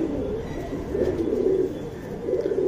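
Pigeons in a loft cooing nearby, low throaty coos rising and falling in repeated swells over soft rustling, with no voices.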